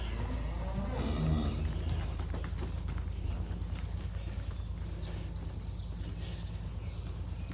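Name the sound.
cow mooing on farm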